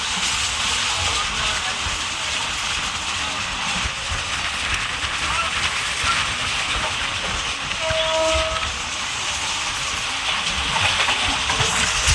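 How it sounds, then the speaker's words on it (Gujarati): A fast-moving local train between Bhavnagar and Surendranagar rumbles and clatters steadily from close by, with a brief whistle-like tone sounding midway. "લોકલ ટ્રેન છે પણ સ્પીડ જોરદાર છે"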